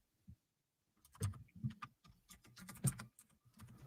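Rapid irregular clacking of keys on a Moonlander computer keyboard, close and fairly quiet, with bursts of typing after a single early tap and no talk.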